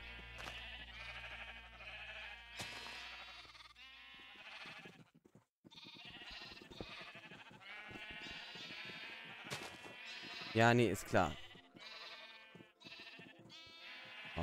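Repeated sheep bleats in the video game Minecraft, short synthetic calls scattered over a steady game soundscape, with someone speaking German in between.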